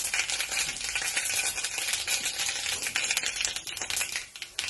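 Mustard seeds crackle and pop in hot oil for a brinjal curry gravy, a dense, continuous rapid spluttering that stays close and fairly loud throughout, with no talking.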